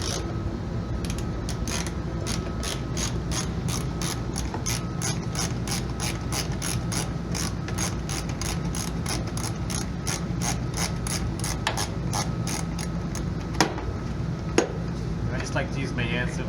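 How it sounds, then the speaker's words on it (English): A socket wrench fitted with a 10mm socket ratchets a bolt out of the middle grille of a 2006-2009 Toyota 4Runner, a long run of quick, evenly spaced metallic clicks close to the mic over a low background hum. "you're gonna have to remove this 10mm bolt right here. So get a socket wrench with a 10mm on there"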